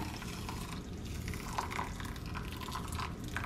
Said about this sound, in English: So I'm just gonna add our hot water.